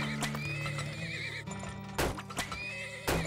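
Horses neigh and whinny in the video game Turmoil, with clip-clopping hooves and repeated loud calls over a steady game music bed.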